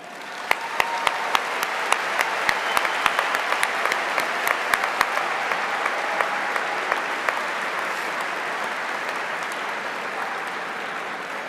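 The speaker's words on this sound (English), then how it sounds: "The very least I can do is give you a round of applause" A large audience at a high school graduation ceremony applauds for a long stretch, a broad wash of clapping with sharp individual claps popping out early, fading slowly to a softer, steady patter.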